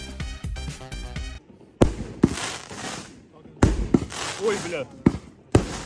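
Outdoor fireworks go off in sharp, loud bangs and crackling pops at irregular intervals, with people talking and exclaiming nearby between the blasts.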